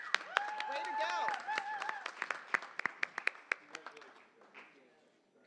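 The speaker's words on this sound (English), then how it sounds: "Another round of applause for our winners for the third annual Jazz Tank." Applause for the winners at a jazz business-plan competition announcement, scattered claps fading out under a voice talking over them at first.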